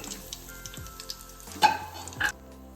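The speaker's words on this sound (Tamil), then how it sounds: "இப்போ நம்ம எடுத்து வச்சிருக்கிற இந்த பிரிஞ்சி இலை, கல்பாசி, அந்த இதெல்லாம் இதில் ஆட் பண்ணிக்கலாம்." Bay leaf and whole spices dropped into hot oil for chicken biryani, a low crackle with a few sharp spits and stirring clinks, fairly quiet and close with no talk.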